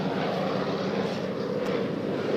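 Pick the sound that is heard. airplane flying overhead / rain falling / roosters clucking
airplane flying overhead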